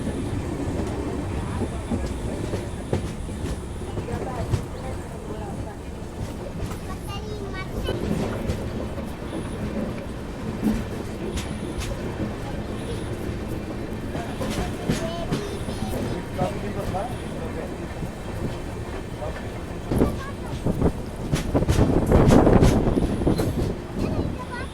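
A passenger train from Tirupati to Bengaluru, heard from the second seating coach, gives a steady rumble and rattle of wheels with occasional clanks and a louder surge near the end, while people talk over it.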